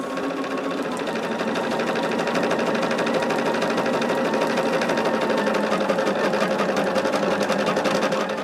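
A sewing machine stitches steadily through a thick quilt seam, a continuous close, loud mechanical whir with a fast needle rhythm that runs unbroken for the whole stretch.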